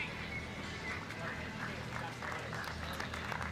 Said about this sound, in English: Gets a round of applause and a few pats on the back for his trouble